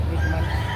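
Chickens and roosters crowd a livestock market, including pumpkin hatch stock about eight months old, giving off steady clucking and fowl calls over a dense, continuous murmur of background noise with no clear single crow.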